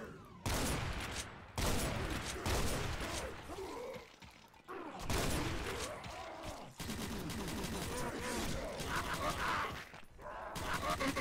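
Shotgun blasts in the Doom mod Project Brutality come as repeated loud, booming bursts with short gaps between them, mixed with mechanical reloading clacks and impact thuds.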